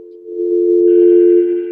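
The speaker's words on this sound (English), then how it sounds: "I have dial tone." Steady telephone dial tone, a continuous hum that holds loud and even for under two seconds, with a brighter higher tone joining partway through.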